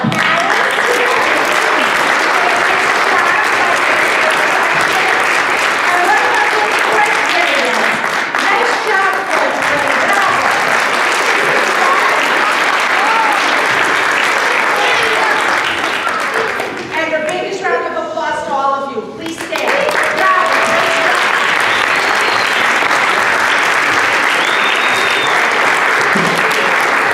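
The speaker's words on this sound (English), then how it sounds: "I think our famous faces in history should give a round of applause to our parents." Loud, sustained audience applause at a school Famous Faces event, dense clapping running steadily for nearly half a minute, with a brief break where a voice cuts through before the clapping resumes.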